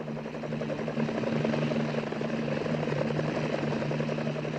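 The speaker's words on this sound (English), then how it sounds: "He's carried away by helicopters at the end." Helicopter rotors and engine in a movie scene, a steady droning whir with a pulsing beat and a strong low hum, continuous and fairly loud with no talking.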